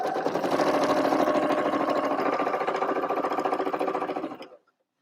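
Sewing machine stitches around the edge of a laundry bag, a loud steady close-up mechanical whir with a rapid needle rhythm running for about four and a half seconds before stopping abruptly.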